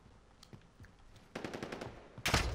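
Video game gunfire: a few scattered single shots, then a rapid automatic burst, ending in a loud close volley, with no speech.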